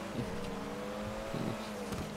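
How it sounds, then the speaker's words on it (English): A rally car engine in GTA 5 revs and drones steadily at a moderate distance, with a couple of brief louder surges as the throttle rises, set against continuous in-game background noise. "Make use of the rally car."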